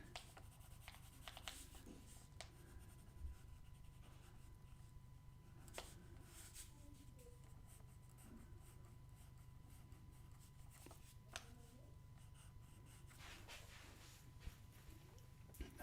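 A pencil making hatching strokes on a drawing of a portrait, heard as faint, close, repeated scratchy strokes over quiet room hiss throughout.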